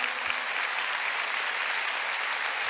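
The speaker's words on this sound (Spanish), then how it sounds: "Denle ese aplauso al Señor." A church congregation applauds in a steady, dense wash of clapping that holds evenly throughout, fairly loud and filling the room.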